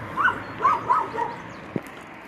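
A dog outside near Le Havre gives several short yipping barks close by, three or four in quick succession, followed by a brief sharp knock.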